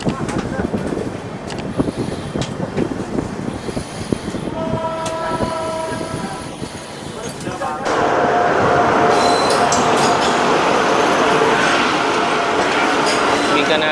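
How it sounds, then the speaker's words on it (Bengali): A train pulling into Deen Dayal Upadhyay Junction, heard from on board with steady rumbling and clattering, a brief horn tone partway through, then a louder, rushing wash of wheel and track noise. "ট্রেনটা ঢুকছে"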